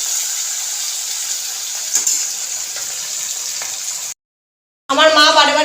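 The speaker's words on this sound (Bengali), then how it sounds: "মাছগুলো সব ভাজছি" Fish frying in a pan in a home kitchen, a steady broad sizzle running for about four seconds, then a short silence before a brighter, bubbling burst of frying resumes.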